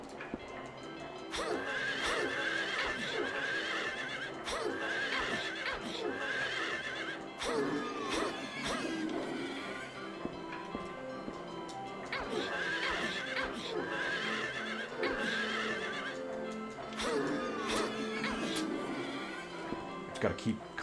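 Horses in the Silent Hill 3 video game give repeated loud, wavering whinnies in bursts, mixed with clip-clopping hooves, the cries recurring several times across the stretch.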